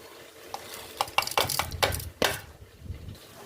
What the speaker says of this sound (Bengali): কচুগুলো একটু নেড়ে ছেড়ে দিচ্ছি কচুগুলো সব ভাজা হয়ে এসছে